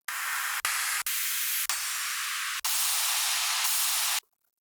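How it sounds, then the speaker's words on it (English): A loud, steady burst of white noise from an electronic music production, broken by a few brief gaps before a longer stretch that cuts off abruptly into silence. "White noise is pretty loud, so this needs to be turned down quite a bit."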